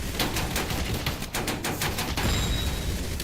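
Rapid automatic gunfire from an Uzi in a video game, a fast run of sharp close shots over steady loud game noise, with a brief lull before the shooting resumes.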